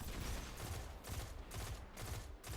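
Rapid bursts of gunfire in Destiny 2 aimed at an enemy sniper come in several clustered volleys, loud and close, with no voices.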